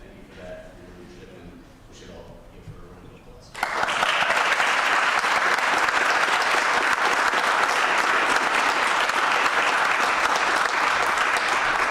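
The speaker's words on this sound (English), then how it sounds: "we should all give her a round of applause" A council meeting audience breaks into a round of applause after quiet room sound, the clapping starting suddenly and then holding loud, dense and even for several seconds.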